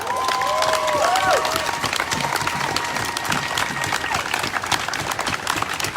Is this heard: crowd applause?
yes